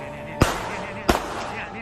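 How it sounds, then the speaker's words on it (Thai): Two sharp gunshots crack out about a second apart, somewhat distant, over a background of voices and general noise, fired in a street near a youth protest outside Din Daeng police station in Bangkok. "เสียงปืนในคลิปเป็นเสียงปืนจริง"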